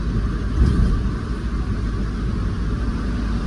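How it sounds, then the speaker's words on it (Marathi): Pickup truck cruising on a highway at about 70–80 km/h, a steady low engine and road rumble filling the cabin, continuous and fairly loud without talk. "सत्तर ऐंशी सत्तर ऐंशीच्या स्पीडने चालू आहे गाडी"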